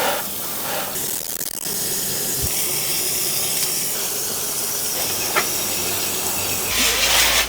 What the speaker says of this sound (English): so I'm just going to clean the leaves a bit. Just mist it basically.